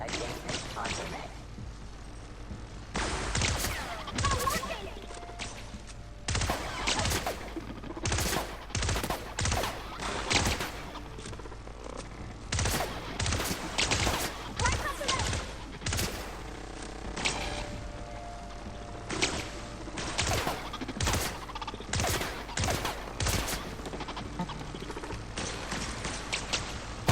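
Plasma rifle fire in The Outer Worlds, rapid loud bursts of shots repeating in clusters over a steady game background, with a voice talking at times between volleys.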